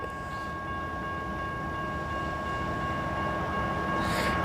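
A Canadian National EMD SD60 locomotive switching rail cars outdoors, heard as a steady, moderately loud diesel drone with a sustained tonal hum, growing slightly louder toward the end.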